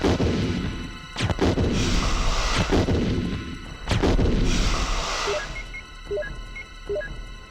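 Gunfire in the PlayStation game Resident Evil 0.5: several loud, sharp shots with booming tails crack out in quick bursts, followed by short electronic beeps toward the end.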